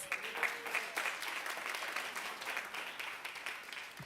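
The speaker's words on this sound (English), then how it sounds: "So let's give that a round of applause." An audience at a fireside chat at the Schomburg Center claps steadily in a moderately distant, even round of applause that holds for several seconds, with a few sharper individual claps standing out.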